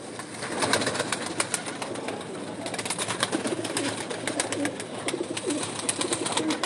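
Pigeons at a loft of flying and homing birds, cooing steadily at close range throughout, with rustling and scattered sharp clicks and wing flutters mixed in and no voices.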